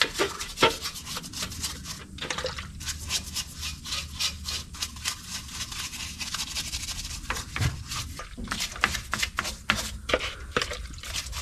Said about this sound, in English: We'll just come in here and scrub this thing down.